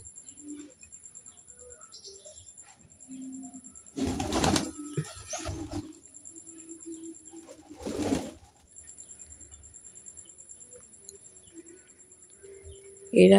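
Pigeons coo low and close at their feed, soft repeated calls that rise into a few louder, noisier bursts, with occasional faint chirps in the background.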